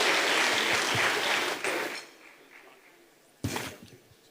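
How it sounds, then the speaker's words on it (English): Sustained applause from a conference audience at a finance corporation anniversary panel, fading out after about two seconds, followed by a quiet room with faint clinks and a sharp knock. "Once again, a round of applause."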